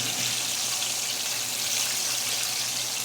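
Chicken legs fry in bubbling oil in a pan, giving a steady, close hiss and sizzle with no voices over it.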